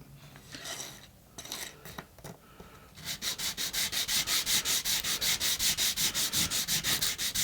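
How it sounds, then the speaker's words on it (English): A small metal wheel from a model locomotive tender is rubbed on abrasive, a few scattered scrapes at first, then a fast, steady run of rhythmic rasping strokes, close and fairly quiet. "run the wheel on a bit of abrasive, and that's cleaned it off a little bit"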